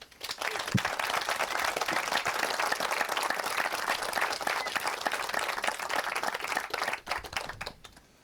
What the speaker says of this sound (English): I'd like to give a big round of applause to these three.